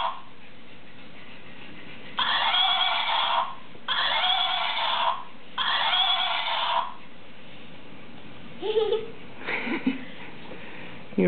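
A toy pink horse gives three loud electronic whinnies in a row, each lasting over a second with short gaps between them, followed by softer rustling and a voice.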